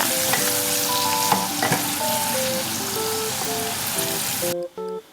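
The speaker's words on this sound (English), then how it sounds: "give it a good stir" Fish pickle frying in a pan while being stirred, a loud, dense sizzle with crackling pops, ending abruptly with a few clinks as the stirring stops.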